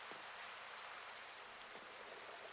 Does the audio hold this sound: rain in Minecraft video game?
yes